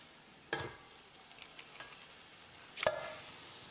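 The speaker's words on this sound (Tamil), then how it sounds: "இந்த சிக்கனை உள்ளே போட்டுடலாம்" Marinated chicken is tipped into a pan of softened, frying tomato masala for chicken kulambu, giving a low, steady sizzle broken by two louder clattering thuds.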